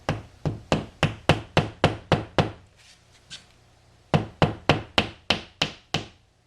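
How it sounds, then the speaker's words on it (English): Plastic wall anchors driven into a wall with a hammer for hanging a mirror with a shelf: two bursts of sharp, evenly spaced knocks, eight blows then a short pause and six more, close and loud with no talking. "carefully and slowly hammer them into the wall."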